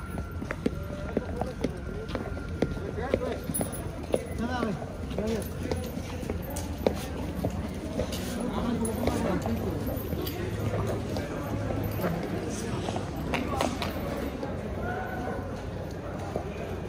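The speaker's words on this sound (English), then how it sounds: "Love this horse." Racehorse hooves clip-clopping in a steady rhythm, close and continuous under an ongoing wash of outdoor noise, with someone talking over the hoofbeats.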